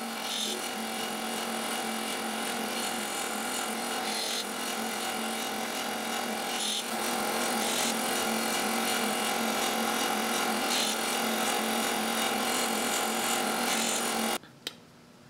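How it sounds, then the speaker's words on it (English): Miniature wood segmented discs, about half an inch across, sanded by hand with a steady, close scratchy rubbing that runs continuously for the length and stops near the end. "Sanding these quarters is going to be near impossible."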